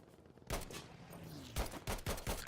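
Rapid gunfire from Battlefield V assault gameplay: a dense run of loud, sharp shots, the first near the start, then irregular clusters of cracks toward the end, with no voices over them.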